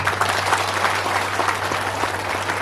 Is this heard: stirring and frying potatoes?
no